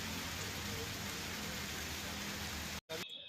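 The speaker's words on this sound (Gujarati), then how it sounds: "હજુ તો ચોમાસાનો પ્રથમ વરસાદ જ આજે સવારથી પડી રહ્યો છે।" Monsoon rain falls on a waterlogged street in Porbandar, a steady broadband hiss that runs unbroken and then cuts off sharply near the end.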